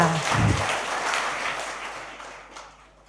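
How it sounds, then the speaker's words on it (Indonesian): A brief burst of clapping for children during a Toraja church Sunday service, rising quickly and fading away over a few seconds, with a low thump near the start. "Tepuk tangan dulu buat anak-anak kita"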